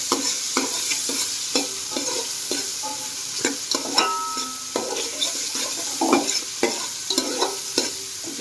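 Two onions fry in a pan for a sandwich gravy, browning in a steady sizzle while a spoon stirs and taps against the pan in repeated close clacks.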